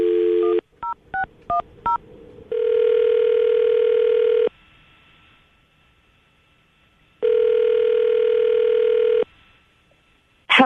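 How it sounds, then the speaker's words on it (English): A telephone handset gives a short burst of tone, then quick keypad beeps as a number is dialed. Two long, steady ringback tones follow, separated by silence. "Okay, I'm going to dial the phone number right now, see if we can get her on the phone."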